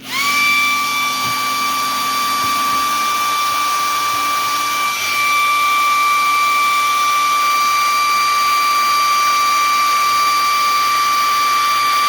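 A steady, loud electric whine with high tonal hum runs throughout, a hair dryer blowing continuously close by on a toy train stockyard's cow and pad during restoration, with no talking.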